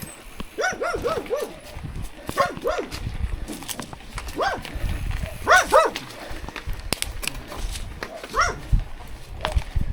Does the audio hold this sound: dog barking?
yes